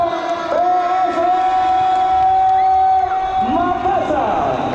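Stadium crowd in Makassar cheering and shouting for PSM Makassar before a match against Bali United, a loud sustained roar with rising whoops and yells, while an announcer's amplified voice carries over it.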